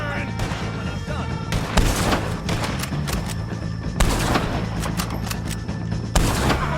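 Gunfire rattles through a Red Dead Redemption 2 shootout, loud and sustained with repeated heavy shots and bursts, several sharp booms standing out over a dense mix of combat noise.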